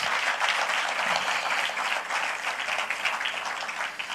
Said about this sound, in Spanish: Dale un aplauso fuerte al Señor en esta hora.